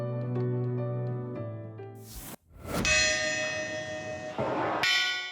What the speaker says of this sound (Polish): Bicie dzwonu można było usłyszeć po raz pierwszy podczas tegorocznych igrzysk na stadionie olimpijskim Stade de France